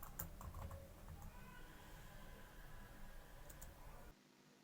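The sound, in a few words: typing a login password on a computer keyboard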